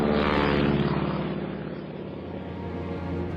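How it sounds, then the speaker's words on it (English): A Sopwith Camel propeller airplane rolls off a battleship's launch platform, its loud, dense engine drone roaring steadily throughout and easing only slightly as it takes to the air. "the plane rolls off the platform, catches air, and flies"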